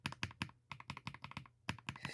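Typing on an EPOMAKER Split70 split mechanical keyboard gives crisp, clicky keystrokes in quick irregular bursts with brief pauses, close and clear with no voices.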